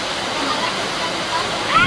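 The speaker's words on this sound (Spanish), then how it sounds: "Estamos esperando que se calme la lluvia para ir a comprar" Steady rain pours down outside in a continuous broadband hiss, fairly loud and even throughout, with a slight swell near the end and no talk over it.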